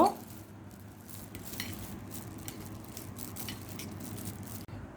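Shredded chicken, chopped carrot, pepper and mayonnaise being mashed and stirred together by hand for a sandwich filling, with soft continuous squishing and light scraping, close and quiet.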